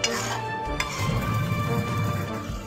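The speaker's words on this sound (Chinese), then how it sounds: "翻拌均匀" Braised pork ribs with tofu and quail eggs get stirred in a pot, a utensil scraping and clinking against the pot over a soft simmering bubble. One sharp clink comes near the start, then busy stirring noises.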